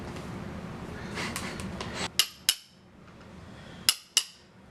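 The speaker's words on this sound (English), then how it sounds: "I'm setting the rivets right now." Four sharp metallic strikes from a hammer setting rivets, in two spaced pairs, fairly close and clear over a low background hiss, with faint rustling handling noise before the first pair.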